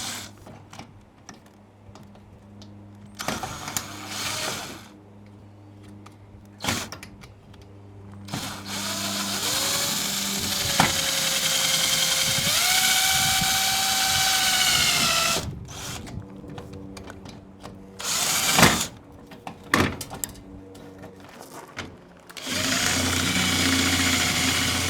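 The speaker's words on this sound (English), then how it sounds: "Now I have to drill these out. So these are riveted in." Rivets being drilled out of a pickup truck canopy, with a drill whining up and holding a rising pitch through the middle stretch, bracketed by clicks, knocks and handling noises nearby.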